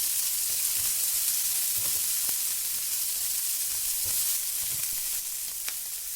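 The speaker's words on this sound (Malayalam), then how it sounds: "ഇനി കോൺ ചേർത്ത് കൊടുക്കുക. എല്ലാം കൂടി ചേർത്ത് മിക്സ് ചെയ്യുക." Corn, egg and chopped ivy gourd stirred in a hot frying pan, a steady close sizzle with faint scraping taps of the spatula now and then, no voices.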